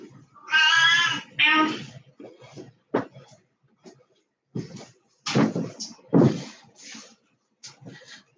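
A house cat meows several times in loud, drawn-out calls from nearby in a room, with short knocks and shuffling between the cries.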